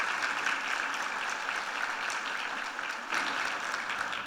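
A church congregation claps together in a steady, dense round of applause that fills the room at an even level, with a brief dip near the end before it swells again.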